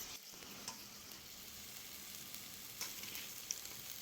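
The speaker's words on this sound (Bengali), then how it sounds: "দিয়ে ভালো করে নাড়াচাড়া করব।" Spices fry in a pan as they are stirred for a fish-head and Malabar spinach dish, giving a faint, continuous sizzle with a few soft scrapes of the spoon and no voices.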